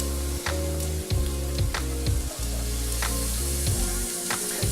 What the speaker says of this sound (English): I'm going to add my cucumber now and just kind of saute that with the onion and the garlic